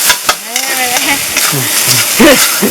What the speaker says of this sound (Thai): ข้าวผัดก็ต้องหอมกระทะ